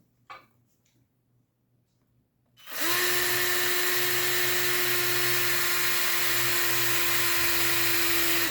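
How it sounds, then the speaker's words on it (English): A power drill bores a hole through a motorcycle saddlebag, a steady loud whine starting abruptly after a couple of seconds of quiet handling and holding constant to the end. "Now, I gotta drill a hole right here for this one."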